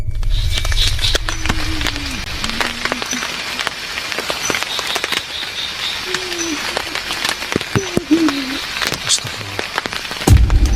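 Rain falls steadily outside a reportedly haunted house, a constant close hiss with scattered drops and knocks, while people speak over it at intervals.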